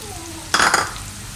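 A brief stir of radish leaves and coriander into a radish-beet curry: a single quick scraping clatter of a spoon in the pot, lasting under half a second against a steady background hiss.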